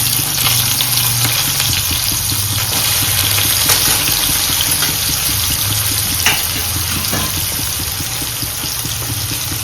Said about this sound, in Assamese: কাটি থোৱা পিঁয়াজখিনি ধুনীয়াকৈ ব্ৰাউন হোৱালৈ ফ্ৰাই কৰিম।